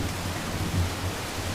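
Heavy rain with rumbling thunder in a forest at night, a steady dense hiss of downpour over a low continuous rumble, fairly quiet and unbroken with no voices.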